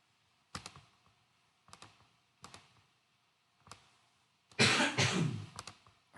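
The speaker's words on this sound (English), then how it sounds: "I've got mucus in my throat, and it's a wet cough." A single loud, wet, mucus-laden cough bursts out after a few sharp, scattered clicks and taps, close by in a quiet room.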